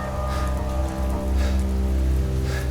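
Steady rain drums on a car from the inside, a dense and continuous patter with no breaks, heard close and fairly loud.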